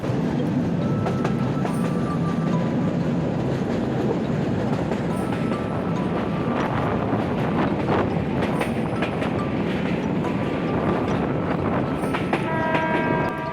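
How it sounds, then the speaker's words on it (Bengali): A train approaching a station in Bogura, Bangladesh, on a rainy day rumbles loudly and continuously on the tracks, wheels clattering, with short horn toots sounding near the end. "ট্রেনটি স্টেশনে যত কাছে যাচ্ছে বারবার তত হর্ন বাজিয়ে স্টেশন মাস্টারকে জানিয়ে দিচ্ছে"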